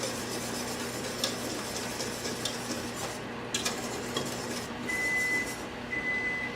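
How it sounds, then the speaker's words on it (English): Butter being stirred around a pot of homemade papaya jelly, a soft continuous scraping and swirling with a low bubbling sizzle underneath and occasional light utensil clicks against the pot. "And just mix the butter around."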